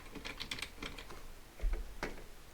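Computer keyboard typing while entering a formula into a spreadsheet, a run of quick close key clicks with brief pauses and a louder cluster of keystrokes near the end.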